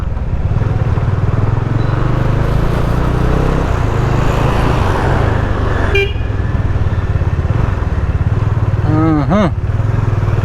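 A Bajaj Dominar motorcycle idles loud and steady up close after its loose silencer is refitted, its engine a constant rumble with a short horn-like wavering tone near the end.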